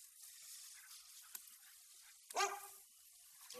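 A dog barks once, quite faint and distant, a brief sharp yelp standing out from a quiet, hissy background.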